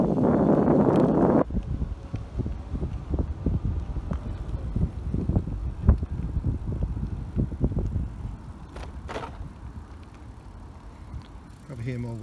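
Wind roars steadily past while a 2021 Carrera Crossfire E 2.0 e-bike is ridden, a loud constant rush with rumbling gusts and thumps from the bumpy ride. Someone talks over it in places.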